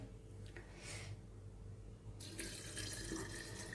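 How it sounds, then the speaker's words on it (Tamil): Water poured into a mixer grinder jar of ground fish curry masala, a faint splash and trickle at first that swells into a steady, louder rushing stream. "இப்போ தண்ணியை ஊற்றிடுவோம்."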